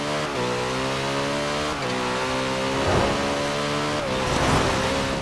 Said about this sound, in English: there is a car coming on the main road